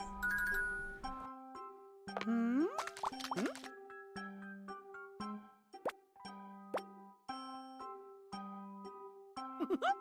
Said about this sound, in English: Lots of glittery sounds and dings and pings that sound like they're ripped straight from a royalty-free site